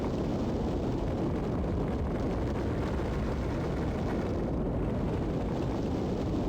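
Parts bursting apart in Kerbal Space Program, a loud, continuous roaring rumble of explosions and blast noise filling the whole stretch, dense and low-heavy with no pauses.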